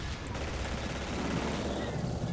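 Dense gunfire in the shooter game Hazard Ops, a continuous rattling barrage with heavy low rumble that fills the whole moment, with a voice faintly mixed in.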